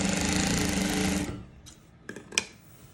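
Electric sewing machine stitching the neckline of a model frock, a rapid steady whirring rattle for just over a second, then stopping, followed by a few soft clicks and handling knocks.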